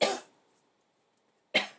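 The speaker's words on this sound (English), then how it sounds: "I just coughed" A woman coughs twice, a short sharp cough followed by another about a second and a half later, close to the microphone with quiet between them.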